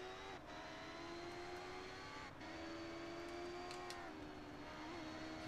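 Formula 1000 race cars at Oulton Park in the video game Toca Race Driver 3, engines droning steadily at high revs with gear-change dips, distant and fairly faint throughout.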